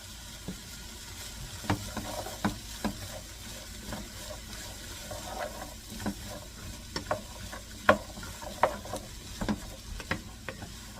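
Peppers, onion and garlic frying in a pan during meal prep, a steady low sizzle broken by frequent sharp clicks and scrapes of stirring, fairly close, with no talking.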